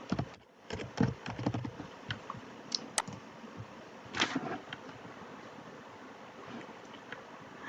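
A computer keyboard types out a package file name in a quiet room, with soft, irregular clicks in short bursts and a few sharper taps, faint and close, with no one talking.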